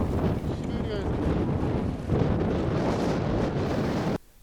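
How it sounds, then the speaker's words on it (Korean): Strong wind buffets the microphone in a loud, steady roar that stops abruptly near the end, with a faint small-boat engine and water underneath, arriving at Godaedo island. "바람 소리 들리시죠?"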